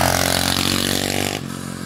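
An SSR 125cc semi-automatic pit bike roaring past at speed, a loud close buzzing engine note that holds steady and then drops abruptly as it passes, no talking.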